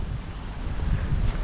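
Steady outdoor wind roaring across the microphone while a betta fish kite flies, a continuous loud rumbling buffet with gusts swelling toward the end, no voices.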